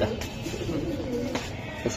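A prized club pigeon, a tagged racing bird at a seller's loft, gives low coos in short bursts close by, with a few brief sharp noises in between and faint voices in the background.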